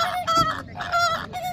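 A flock of flamingos calling at Al Qudra Lake: loud, nasal goose-like honks in quick overlapping bursts, several calls in under two seconds, close and clear with no talk.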